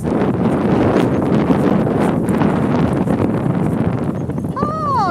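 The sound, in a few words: wind on microphone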